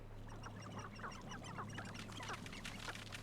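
Chickens in the Hogwarts Legacy video game give a run of short clucking calls over a steady low game-audio hum, moderately faint and with no talking.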